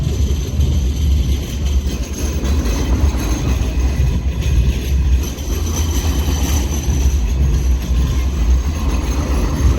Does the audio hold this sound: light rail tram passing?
yes